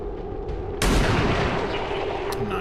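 A single loud overwatch gunshot in XCOM 2, a sharp blast followed by a ringing decaying tail and a faint later click, with no voices.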